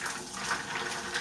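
Water from a handheld shower runs steadily through curly hair as it is worked in during a pre-poo, a soft continuous close splashing hiss.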